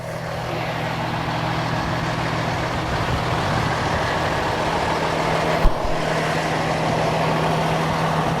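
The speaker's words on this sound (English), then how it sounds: "This is one of our combination jet vac trucks that we use in sewer maintenance" A combination jet vac sewer maintenance truck runs at a steady low engine drone with a constant hum, outdoors at a work site, with one brief knock partway through and no talk.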